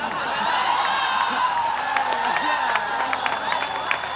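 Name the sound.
audience applause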